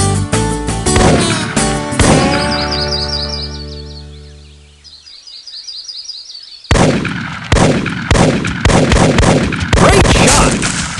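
Hunting rifle gunshots ring out in the Big Buck Hunter Pro arcade game, several sharp loud reports in a quick opening volley, a decaying tail with chirping birds, then another rapid string of shots.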